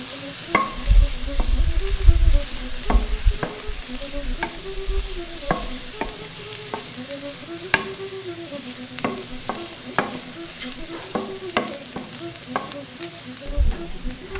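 Chopped green pepper stirred and frying in a pan while cooking offal with bananas, a steady close sizzle punctuated by repeated scraping strokes of a spoon against the pan, with soft background music.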